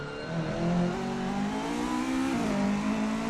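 A Mk2 Ford Escort rally car in Assetto Corsa climbs out of a hairpin, its engine revving steadily and loud, pitch rising then dipping briefly at a gear change before climbing again.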